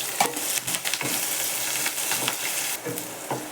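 Onion, curry leaves and peanuts sauté in oil in a pan, crackling and popping continuously while a spatula scrapes and stirs in repeated bursts; no one speaks.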